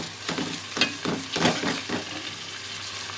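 Chopped onion and coriander stalks fry in hot oil for a Nellore fish curry, a steady close sizzle with a few louder crackling bursts and no talking.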